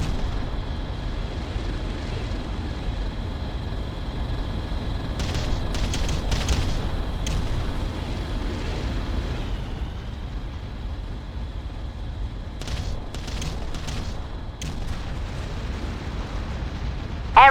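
An artillery bombardment rumbles on in the real-time strategy game Ground Control, a continuous low roar of distant blasts with a few sharper crackling bursts and a faint steady tone running underneath.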